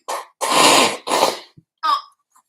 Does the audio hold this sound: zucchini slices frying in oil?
no